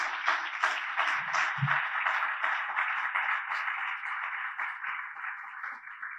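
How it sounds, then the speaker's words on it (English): A conference audience gives a steady round of applause for the event sponsors, a continuous wash of many hands clapping at moderate distance that holds level throughout with no speech over it. "a big round of applause to all our sponsors"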